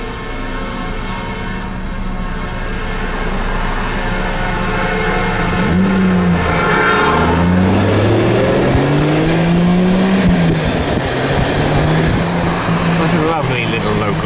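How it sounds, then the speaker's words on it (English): A local Norfolk Southern freight train led by locomotive No. 5087 passes, its diesel engine rumbling steadily throughout, while rising and falling tonal sounds pass in the middle, with someone speaking over it. "What a lovely little local train."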